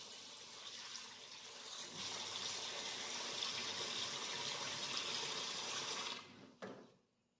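Water gushes steadily over sticky rice being rinsed for Thai-style cooking, a continuous splashing pour that stops abruptly near the end, followed by a brief clunk.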